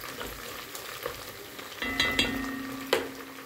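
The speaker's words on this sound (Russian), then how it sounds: "Тут пережариваю мясо." Thinly sliced meat sizzling and crackling in a hot pan, close up, with a steady frying hiss, occasional scraping stir sounds, and a brief metallic clink.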